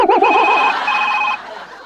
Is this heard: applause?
no